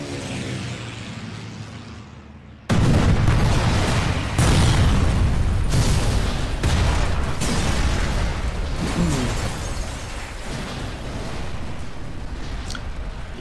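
Explosions roar as enemies are bombed in the Sniper Elite 4 video game, a sudden loud blast followed by sustained rumbling and a string of heavy booms and crackling debris.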